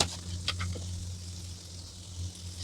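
A sizzling pan of Manchurian gravy with cumin and black pepper powder being stirred, soft frying hiss with a couple of brief scraping stirs over a low steady hum, no speech.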